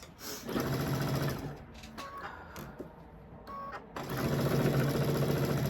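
A sewing machine stitches a quilted placemat piece in two close, steady whirring bursts separated by a brief pause with small clicks.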